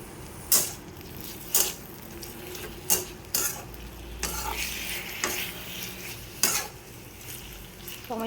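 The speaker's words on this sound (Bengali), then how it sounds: "টমেটোটা ভাজা ভাজা হয়ে গেলে" Whole tomato and green chilies frying in a pan for Bengali chicken kosha, with a steady sizzle broken by sharp clinks and scrapes of a spatula stirring against the pan at irregular intervals, close and loud, no talking.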